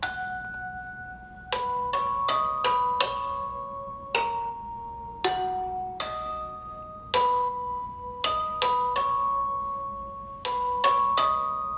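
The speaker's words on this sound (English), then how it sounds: "I actually added a kalimba and a thumb piano from Contact" Plucked kalimba and thumb piano notes ring out in a sparse, layered melody over a soft lofi bachata beat, each bright tone decaying slowly in clustered groups.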